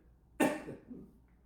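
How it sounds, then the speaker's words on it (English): A single person coughs once during a yoga breathing exercise, a short, sharp burst that fades quickly, followed by a faint breath, close and quiet against a silent background. "Why don't you see if you can cough?"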